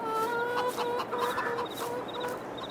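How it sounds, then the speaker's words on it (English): Chickens cluck repeatedly at close range in a Farming Simulator 22 coop, a busy, continuous chorus of short calls with no talking. "Good morning, chickens."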